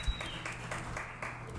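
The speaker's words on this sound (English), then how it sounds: "Crowd up, clap it up, clap it up" A live podcast audience claps in a brisk, moderately loud burst, individual hand claps surging in uneven waves over a low room hum.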